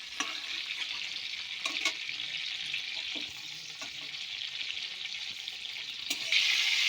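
Prawns frying lightly in hot oil give a steady, close sizzle with scattered sharp pops and crackles throughout.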